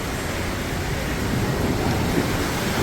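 Choppy, windblown water sloshing over the edge of an outdoor pool in Rhodes, Greece, a loud, steady wash of splashing and surf-like noise with no voices.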